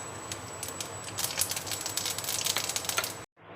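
Dried red chillies, a bay leaf and cumin seeds sizzling in hot mustard oil for tempering, a crackling, popping sizzle of fast irregular spits that cuts off abruptly near the end.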